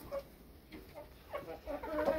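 A broody frizzle hen clucks softly in a nesting box, with a few faint, scattered low clucks and murmurs close by in a quiet setting.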